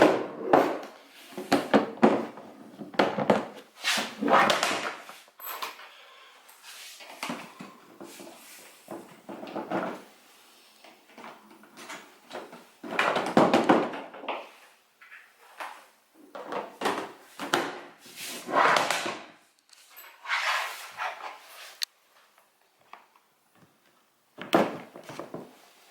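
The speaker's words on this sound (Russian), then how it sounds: "Собираем ящик обратно." A Meiho VS7070 plastic tackle box is put back together by hand: irregular clacks, thunks and scraping handling noises in bursts of parts being fitted, close up, with brief pauses between.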